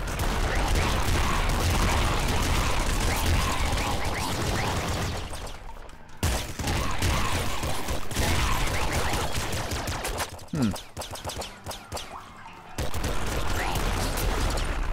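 Blood cannon blasts in the PC shooter Nuclear Throne, dense loud bursts of gunfire-like booms and crackles firing continuously, with brief lulls around the middle before the barrage resumes.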